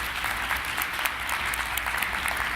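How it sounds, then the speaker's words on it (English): Sustained audience applause at a business forum presentation, many hands clapping steadily and densely from start to finish with no voices over it. "please give a round of applause to Katori and Nikki for being here"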